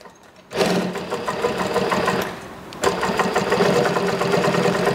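An industrial high-speed sewing machine runs in two bursts after its rotary hook is replaced and set, a loud, fast, even mechanical whir that stops briefly before starting again.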